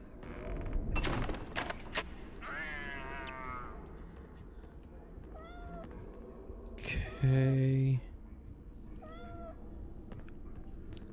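A cat meows several times in the Harry Potter and the Sorcerer's Stone video game: short, separate mewing calls spaced across the stretch, mixed with other game sounds and a brief spoken word.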